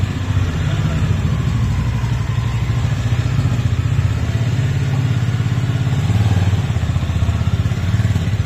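Honda H'ness CB350 motorcycle engine running with a steady low rumble and a faint mechanical clatter, close and continuous throughout.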